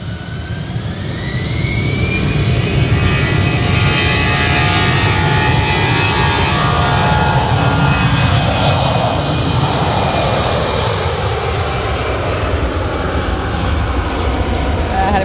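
Aer Lingus jet airliner departing Manchester Airport for Dublin, a loud rising jet engine roar with a sweeping high whine as it passes close by, sustained throughout, with faint voices underneath.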